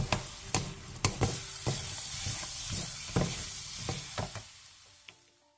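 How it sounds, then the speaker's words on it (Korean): Fried burdock and chili peppers being stirred through bubbling sauce in a pan, with a steady sizzle punctuated by sharp utensil scrapes and clicks at irregular intervals, fading slightly toward the end. "튀긴 우엉과 청양고추를 넣고 양념이 골고루 묻을 수 있게 2분 정도 골고루 뒤적여주세요"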